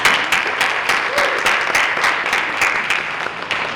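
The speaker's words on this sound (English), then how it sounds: "So a quick round of applause for the Buell Regional Health Foundation." Audience applause at a Stamp Out Stigma mental health event, honoring the Buell Regional Health Foundation: steady, dense clapping from a sizable crowd, sustained and fairly loud throughout with no talk over it.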